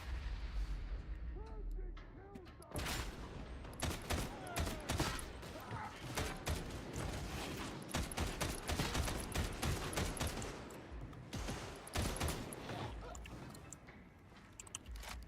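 Heavy gunfire in Warhammer 40k Darktide, with dense, continuous bursts of shots and booming blasts hammering almost without pause for fifteen seconds, loud and close, layered with mechanical clatter and faint voices.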